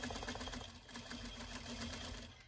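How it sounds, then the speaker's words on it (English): An industrial-style sewing machine runs in a steady, continuous mechanical whir, stitching back and forth through several thick layers of fabric to reinforce a corner on a bumble bee dress, loud and close throughout. "if you don't have an industrial sewing machine, you're going through a lot of layers here of fabric"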